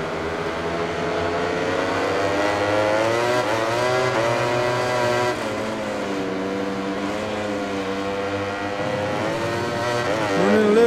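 A Ducati GP20 racing motorcycle engine in the MotoGP 20 video game whines and revs, pitch climbing and dropping through gear changes, loud and steady.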